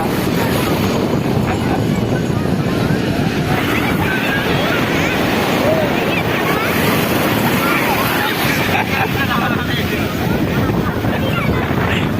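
Sea waves roll and wash steadily onto the shore at Marina Beach, a loud continuous roar with wind buffeting the microphone and voices faintly mixed in.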